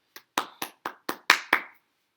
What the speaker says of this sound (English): So give your guys a round of applause.